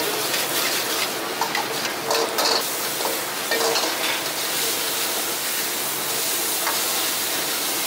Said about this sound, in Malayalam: ഡ്രാഗൺ ചിക്കൻ ഉണ്ടാക്കുന്നതിന് വേണ്ടിയുള്ള സാധനമാണ് വറുത്തുകൊണ്ടിരിക്കുന്നത്